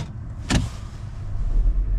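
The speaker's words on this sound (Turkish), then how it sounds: "Bakalım tek kontakta çalışacak mı? Arabamız evet, çalıştı." A car engine starts in a snowy Canadian winter: a sharp click, then a low rumble that builds and settles into a steady idle, close by with no talking.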